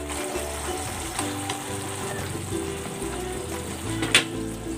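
Sliced onions frying in a pan with chicken in bistek sauce make a steady, close sizzle with small crackles and one brief sharp clatter near the end.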